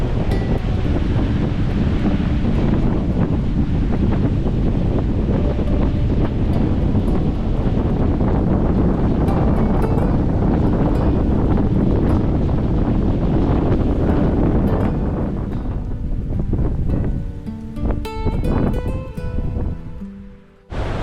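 Strong wind buffets the microphone in a loud, steady roar, easing near the end where a few sharper knocks and rustles break through.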